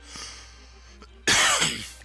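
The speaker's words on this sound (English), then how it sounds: "A little cough here." A single sharp cough bursts out close to the microphone after a quiet stretch of background game music, then trails off over about a second.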